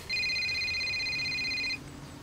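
A mobile phone rings with a steady electronic tone held for about a second and a half, clear and close, then cuts off into quiet room ambience.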